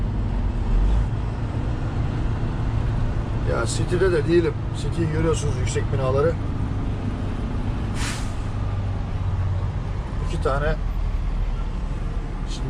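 A steady low engine rumble and road noise from inside a truck in city traffic in Chicago, with someone talking over it and a brief hiss partway through.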